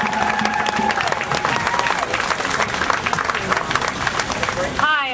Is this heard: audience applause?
yes